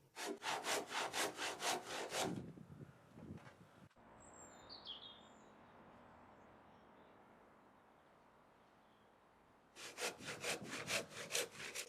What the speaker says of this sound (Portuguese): fiz o corte em 2 passadas e usei o serrote manual para remover o meio